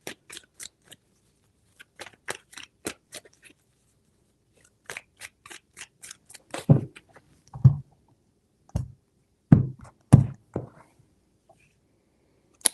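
Tarot cards being handled and shuffled: sparse bursts of crisp clicks and snaps, then several heavier taps and thuds in a loose rhythm, close and fairly quiet, with no talking.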